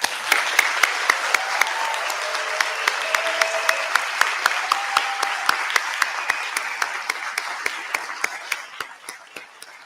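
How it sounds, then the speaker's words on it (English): Audience applause for the organizing committee at the IFSS Chile 2022 event, steady dense clapping with a few sharper individual claps standing out, sustained for about ten seconds and tapering slightly near the end. "OC, please stand for this audience to give you a big round of applause for the amazing effort you have done to make this crazy dream come true."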